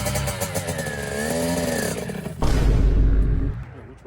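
A Kawasaki KX two-stroke dirt bike on single-track trails revs with a rising, buzzy engine note, then breaks into a sudden loud burst of throttle that holds briefly before easing off, close by.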